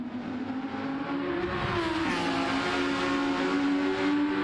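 A race car at the Nürburgring 24-hour race brakes and then revs hard, its engine note dropping and then climbing again in a loud, sustained roar that stays fairly close the whole time.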